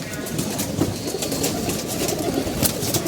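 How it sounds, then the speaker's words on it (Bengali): Pigeons coo softly as they come down to a rooftop loft beside buildings, the calls faint against a steady wash of outdoor noise. "ওই যেমন তো কবুতর দেয় নামতে আসছে"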